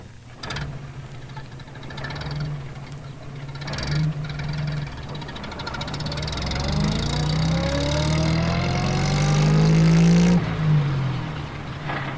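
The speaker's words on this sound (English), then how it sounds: "Then he and Jess drove up to the lane away from Garner Hall and parked by the side of a small hill." A small red post van starts and drives off along a country lane, its engine turning over, then revving louder and rising in pitch as it pulls away, alone with no voices.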